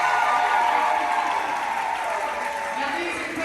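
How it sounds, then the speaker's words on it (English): Steady crowd applause for families on stage during a Mardi Gras carnival event, loud and continuous throughout, thinning slightly toward the end, with a voice speaking faintly over it. "we would like to give a big round of applause to our amazing families right over here"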